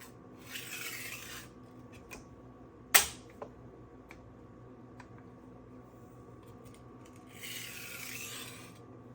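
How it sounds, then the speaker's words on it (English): A knife drawn in light back-and-forth strokes across a stone on a SharpWorx Master 2 sharpener gives two soft, raspy rubbing passages with a single sharp click and a few faint ticks between them, all close and quiet. "the name of the game here is just light back and forth strokes"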